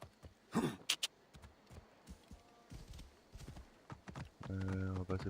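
Horse hooves clopping in the video game Assassin's Creed Origins, faint and uneven beneath game ambience, with other in-game noises and a harsh buzzing effect near the end.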